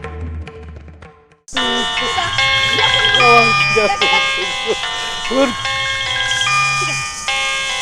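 After a moment of voices, a loud electronic ringtone melody plays in repeating bright tones and keeps going steadily.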